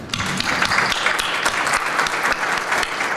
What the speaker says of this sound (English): I want you join me to give a strong applause to the organization and the sponsors and the great city of Astana